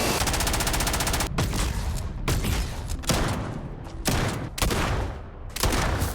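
Rapid bursts of weapon fire in the video game Starfield, dense loud volleys of automatic gunshots repeating in several clusters with short gaps between them.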